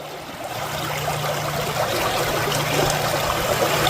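Fast-flowing fresh river water rushes in a steady, broadband wash for several seconds near Ellaville, Florida, with no voices over it.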